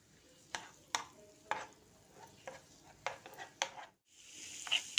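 Garlic sizzling in a pan on the stove for Egyptian rice cooked with kidneys, with a steady faint fry broken by sharp stirring clicks and scrapes of a utensil against the pan, one brief near-silent gap.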